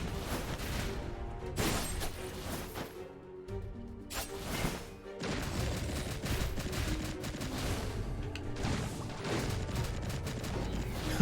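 AK rifle gunfire in the game Skul, dense rapid bursts of shots mixed with crashing impacts, continuous and fairly loud with short pauses between volleys.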